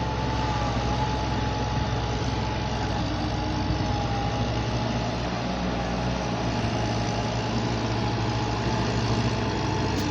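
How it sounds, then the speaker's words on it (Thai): Six-cylinder turbo car engine idling, a steady loud droning rumble that stays constant throughout, close up with no talk. "เป็นรถซีสูบเทอร์โบครับผม"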